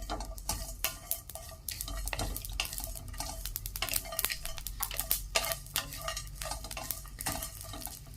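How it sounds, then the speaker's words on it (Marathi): Black pepper, cloves and green chilies dry-roasting in a pan on low heat, busy with close clattering scrapes and stirring knocks over a light sizzle, irregular and continuous, with nobody speaking. "मिरे आणि लवंग दोन मिरच्या हिरव्या अशा आपण मंदाच्यावर भाजून घ्यायच्या"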